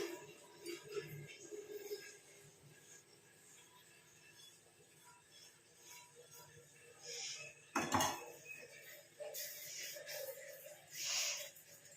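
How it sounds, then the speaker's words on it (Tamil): A homemade mixture is tipped out onto a plate: soft scraping and clinks of metal against dishware, with one sharp clatter partway through, fairly quiet throughout. "இப்போ இது எல்லாத்தையும் நம்ம தட்டில் கொட்டி நல்லா ஆற வச்சிடலாம்"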